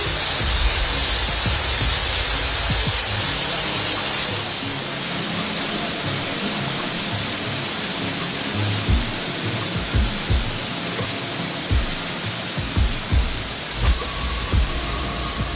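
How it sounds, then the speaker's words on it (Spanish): Breo waterfall on the Huayabamba river in Huicungo district, a steady broadband roar of falling water that holds continuous throughout, with low thuds and bumps breaking in near the end. "Catarata del Breu, río Guayabamba, te espera."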